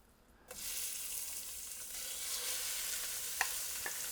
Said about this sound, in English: First things first is to brown off the meat.